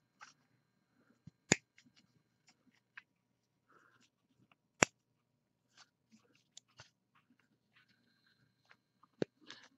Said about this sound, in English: Breaking free the supports furthest away from the blade first, and then finally getting up and working into it